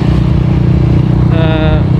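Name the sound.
Honda RS150 motorcycle engine revving with racing CDI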